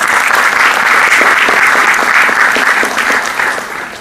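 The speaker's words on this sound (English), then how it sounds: "I think that we should give you all a round of applause for coming" An indoor audience bursts into loud, sustained applause with thick, even clapping that tapers off over the final second.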